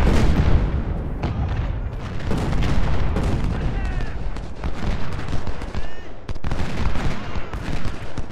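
Troops fire in Ultimate General: Civil War, a game set in the American Civil War. Musket volleys and booming cannon rumble on without a break, loud and dense throughout the clip.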